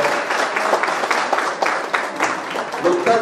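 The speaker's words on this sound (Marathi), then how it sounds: "जोरात टाळ्या वाजवून त्यांचं स्वागत करायचं होतं" Guests at a community felicitation ceremony in Kalyan are welcomed with applause; loud, dense clapping from a crowd continues throughout, with voices mixed in.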